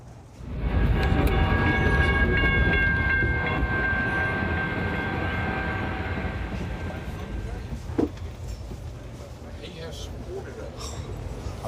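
Passenger train in the U.S. rolls along the rails with a steady rumbling roar and a faint whine, heard from on board at moderate loudness, with a soft knock near the end.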